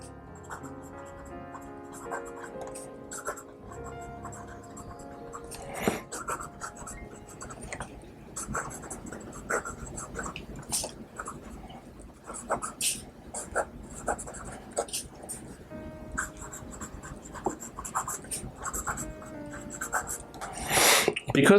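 A Pelikan M200 fountain pen inked with Sailor Black scratches across paper in quick, irregular strokes and taps, close and fairly quiet, with no talking.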